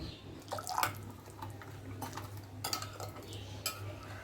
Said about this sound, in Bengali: ভালো করে মিশিয়ে নিয়ে সামান্য একটু হাফ কাপ মতো জল দিয়ে দেব।